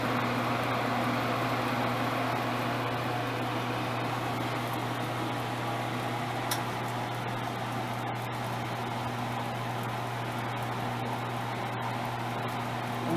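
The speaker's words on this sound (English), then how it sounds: "If we use the cooling fans, we can just turn them on" Cooling fans on a USI ARL PRO 2700 thermal mounting roll laminator blow with a steady, even whoosh and low hum, constant and fairly close, with a few faint clicks and no talking.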